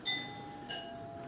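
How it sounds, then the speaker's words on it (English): A doorbell rings in a home, a brief electronic chime with a couple of tones, moderately faint against steady room background and no talking. "They ring my bell."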